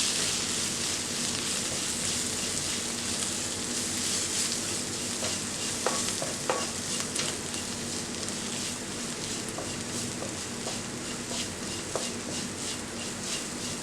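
Chili and coriander powder masala being stirred and sautéed in a pan for an ivy gourd fry, with a steady sizzle under scattered scraping spatula clicks throughout, no voices.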